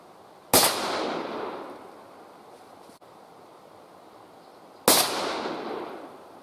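Two loud, close rifle shots while sighting in a rifle for deer hunting, about four seconds apart. Each is a sharp crack followed by a long fading outdoor echo.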